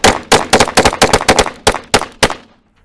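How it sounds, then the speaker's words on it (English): Handguns fire in a rapid string of about ten loud, sharp shots aimed at a ballistic torso, irregularly spaced and close up, ending abruptly and leaving brief silence. "We're gonna fire as fast as we can while remaining relatively efficient."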